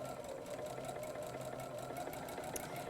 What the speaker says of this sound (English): go ahead and sew 1/4 inch